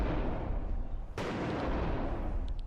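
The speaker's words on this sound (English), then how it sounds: "You don't only hear the gunshot, you hear the blast wave rushing through the corridor itself" In the Bodycam video game, a gunshot cracks in a corridor and its loud blast wave rumbles on through the enclosed space, a broadband roar with a sharp onset near the middle, heard alone.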